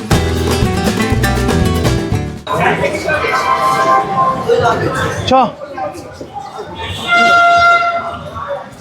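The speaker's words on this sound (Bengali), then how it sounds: "রামপুরহাট জংশনের 2 নম্বর প্ল্যাটফর্মে এসে দাঁড়ালো জামালপুর বন্দে ভারত এক্সপ্রেস।" A Vande Bharat Express bound for Jamalpur pulls into platform 2 at Rampurhat Junction, loud and near. Horn-like tonal blasts sound over a busy station din of rumble and mixed noise.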